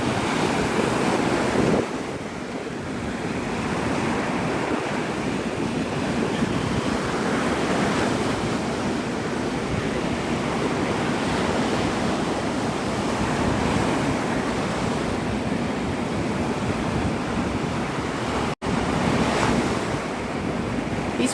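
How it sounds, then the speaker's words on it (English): Rough ocean surf churns and slaps continuously in strong wind, loud and close, with gusting wind noise buffeting the microphone throughout and a brief dropout near the end. "These waves, man, they're slapping."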